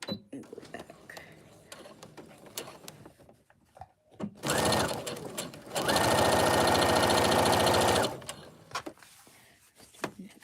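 Sewing machine stitching fabric in two steady mechanical runs, a short one and then a longer, loud, even whir, with quiet handling clatter and some talk before and after.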